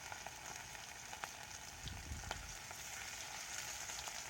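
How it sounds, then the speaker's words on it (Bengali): Pakoras dropped into hot oil for another round of frying, giving a steady, soft crackling sizzle throughout with faint scattered pops and no talking. "আবার আমি তেলের মধ্যে পকোড়াগুলো ছেড়ে দিলাম"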